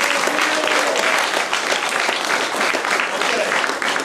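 Loud, continuous applause fills the room for martial arts students who have just passed their belt testing at a family martial arts center ceremony, a dense steady clapping crowd throughout.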